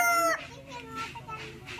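A farmyard chicken in a rural province lets out a loud squawk, then softer clucks follow, with faint background noise and a hint of voices.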